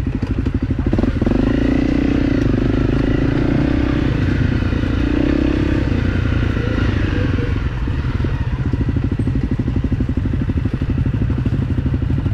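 A motorcycle engine runs steadily and loudly throughout on a rocky trail, with occasional clatters and scraping thuds as the skid plate strikes the rocks.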